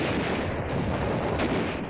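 Dense, continuous roar of WWII battlefield firepower during the Marine assault at Tarawa, mortar blasts and rifle gunfire blurring into a loud rumbling wash with a sharper burst near the end.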